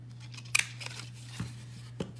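Scissors snip a notch into scored paper for a watermelon-themed treat box, giving a sharp crisp cut near the start and a couple of quieter clips later, over a steady low hum.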